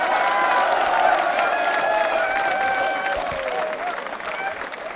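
Audience applause fills a hall at a quiz show for accounts officers, a dense, sustained clapping crowd that stays loud throughout and eases slightly toward the end, with a few voices mixed in.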